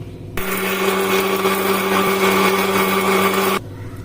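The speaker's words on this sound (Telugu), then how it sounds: "కారం ధనియా పౌడరు పసుపు ఇవన్నీ కూడా గ్రైండ్ చేసుకోవాలి మెత్తగా పేస్ట్" Electric mixer grinder whirs at high speed as it grinds chili, coriander powder and turmeric into a paste, starting abruptly, running steadily and loud for about three seconds, then cutting off.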